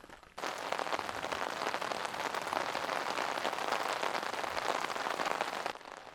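Heavy rain pours hard on an island campsite, a steady dense hiss of drops on surfaces that starts abruptly and holds constant for several seconds, loud and close with no voices.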